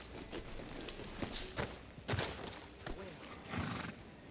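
Hooves clip-clop from a horse in Red Dead Redemption 2 as it stops outside the sheriff's office in Rhodes, a few scattered footfalls and a short snort under in-game voices.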